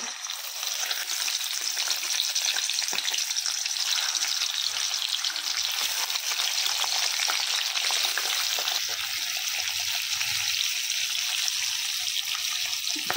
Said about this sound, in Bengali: তেল গরম হয়ে গিয়েছে, এখন দিয়ে দেবো মাছগুলা।